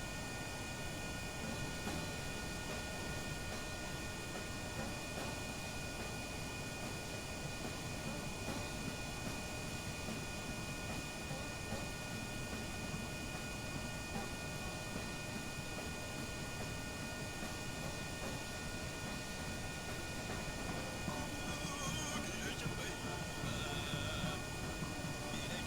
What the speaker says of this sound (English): Now we activate thrust reverser and blades start turning on.